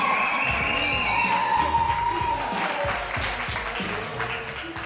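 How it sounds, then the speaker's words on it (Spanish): Crowd applause and cheering at a live battle event in Venezuela, moderately loud and continuous, with voices and shouts mixed into the clapping. "Fuerte el aplauso también para ellos."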